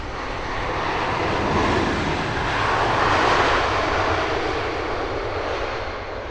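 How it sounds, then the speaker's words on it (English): A British Airways Airbus A380 from Johannesburg landing at Heathrow: a dense, rushing four-engine jet roar that swells toward the middle and eases slightly at the end, loud and continuous with no voices. "is the British Airways King of the Skies, A380 from Johannesburg"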